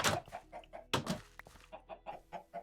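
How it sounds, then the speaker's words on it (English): Chickens in the video game Minecraft, on the StoneBlock modpack, cluck in a steady string of short, soft calls, with a few louder bursts mixed in at a moderate distance. "let's have a look at some of our chickens"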